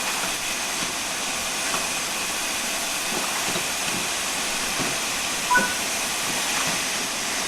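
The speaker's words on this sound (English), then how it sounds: "When the locomotive has been left standing, you'll want to open the cylinder cocks or remove any water." Cylinder cocks venting on a steam locomotive in Train Sim World 5 give a steady, loud broadband hiss that runs evenly throughout, with a few faint clicks and knocks beneath it.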